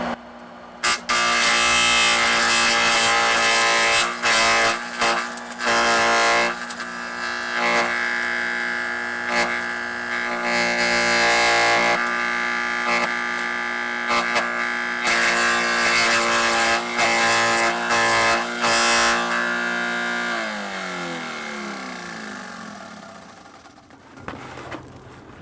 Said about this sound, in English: let me turn it on and shred it for you guys in real time to see how well it does.